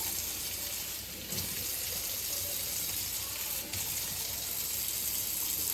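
A hot glass canning jar is rinsed under a running kitchen tap, a steady close stream of water splashing and gushing throughout with slight shifts as the jar moves.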